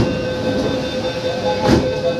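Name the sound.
Kolkata underwater metro train starting to move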